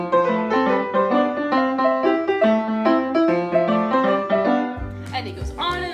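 A song is played on piano as a solo arrangement with a steady bouncing bass and melody, several seconds of lively notes ending in a low chord.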